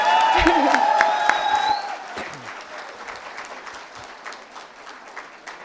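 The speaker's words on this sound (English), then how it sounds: "give yourselves the most massive round of applause you possibly can" A large audience at a graduation ceremony bursts into loud, sustained applause with some cheers, the clapping gradually thinning and softening toward the end.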